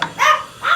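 Excited dogs bark sharply twice, loud and close, in a home kitchen while fish is being cooked.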